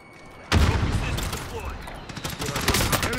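Rapid bursts of gunfire from the Warzone Zombie Royale video game break out suddenly and stay loud and dense, with several overlapping shots and a few sharper cracks near the end.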